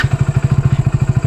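A 2025 Hero Passion Plus motorcycle idles close by, its engine thumping in a fast, even, loud rhythm of about ten pulses per second with no talk.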